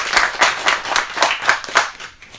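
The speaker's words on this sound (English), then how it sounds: "clap it up" An audience claps in a loose rhythm at a comedy show, a handful of loud hand claps rising and falling in pulses before fading out.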